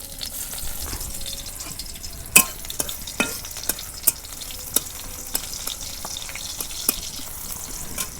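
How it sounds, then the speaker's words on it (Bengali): Chopped onions frying in hot oil in a village kitchen, a steady close sizzle broken by sharp clinks of a utensil stirring the pan at irregular intervals. "তেল গরম হয়েছে, পেঁয়াজ কুচি দিয়ে দিলাম।"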